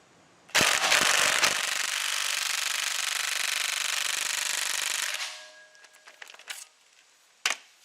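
Impact gun hammering loose 12-point suspension bolts on a Factory Five car rear suspension, a long continuous rattling burst of about four and a half seconds, followed by quieter clanks and a short sharp rattle near the end.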